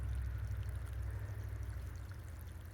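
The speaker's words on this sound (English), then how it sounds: "We've got a nice full of water coming out of there." Water gushes steadily from a cabin's tank as a battery-powered bilge pump drains it for winter, a continuous loud rushing flow with a deep low rumble and no pauses.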